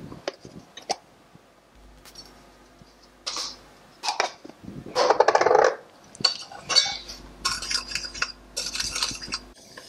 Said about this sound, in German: dann rühre ich noch die ausgedrückte Gelatine hinein